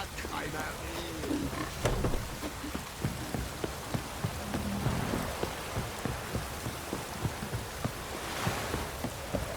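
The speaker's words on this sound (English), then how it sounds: "Midges were biting on account of this downpour." Downpour in The Witcher 3 game world, steady rain hiss with scattered droplet taps, and a faint voice now and then beneath it.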